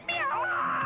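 A cartoon cat lets out a single drawn-out, wavering meow, loud and close, lasting under a second with nothing else around it.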